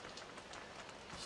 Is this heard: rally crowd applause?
no